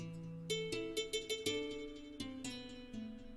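Guitar melody treated with EQ that trims the highs and a ping-pong Fruity Delay, for a dark trap sample: a steady run of plucked notes with echoes trailing between them, moderately loud and unaccompanied by voices.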